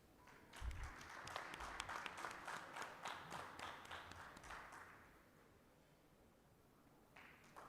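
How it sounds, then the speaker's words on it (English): Attendees at the DVC O&M 2026 engineering conference applaud the session judges, a faint, distant round of clapping that fades out after a few seconds, leaving a few scattered claps near the end. "Please put up a big round of applause for our esteemed session judges"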